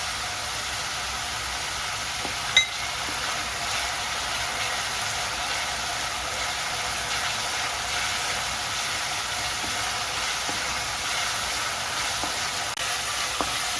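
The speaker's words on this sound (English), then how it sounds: "So now let's add the curry leaves." Curry leaves sizzle in hot oil in a pan while a vegan sprouts curry, misal, is cooked. A loud, steady frying hiss fills the whole stretch, broken by one brief click early on.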